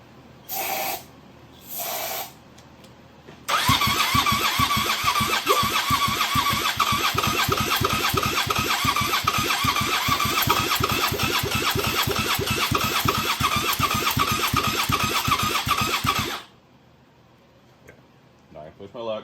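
Suzuki SV650 twin-cylinder motorcycle fitted with Hayabusa coils fires up after a couple of short starter bursts, then runs with a loud, steady, lumpy idle for about thirteen seconds before shutting off, heard up close.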